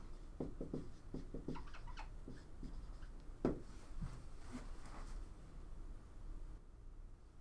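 Chalk or marker writing on a board during a maths lecture on maxima and minima: quiet scratchy strokes in short bursts with pauses, faint against a low room hiss.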